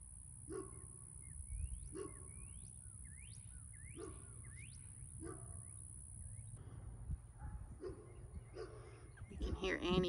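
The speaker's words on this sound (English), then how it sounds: "You can hear Annie barking, protecting her land." A dog barks outdoors on rural land, a run of about eight single barks spaced roughly a second apart at moderate distance, with birds chirping around and a voice joining near the end.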